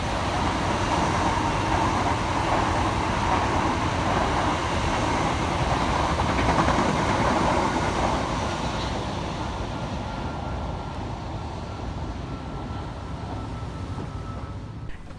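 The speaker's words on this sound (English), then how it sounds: "Next to pass through the station is 377 608 and 377 616, working 1P47 for Southern from London Bridge" A pair of Southern Class 377 electric trains passes through New Cross Gate station in London with a sustained rolling rumble and rail noise that slowly fades toward the end.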